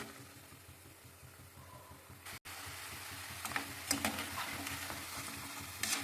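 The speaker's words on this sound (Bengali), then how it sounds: "পুলিগুলো লাল করে ভেজে নিলাম।" Mung dal milk puli dumplings fry in a pan with a steady close sizzle, gentle stirring scrapes and occasional brighter crackles, growing slightly louder toward the end, with no talk.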